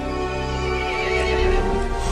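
A horse in the video game Resident Evil Village lets out a long, loud whinny with a wavering, harmonic-rich cry, set over a low rumbling backdrop.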